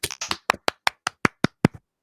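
About ten sharp claps, evenly spaced and fairly close, ringing out alone at a quick steady pace, like a single person clapping in a podcast studio.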